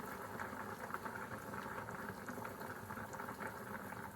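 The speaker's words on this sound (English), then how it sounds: "So I'm just going to leave it boiling like that" A pot of water boils on a stove with a wooden spoon resting in it, a steady close bubbling roil that churns on continuously with no talking.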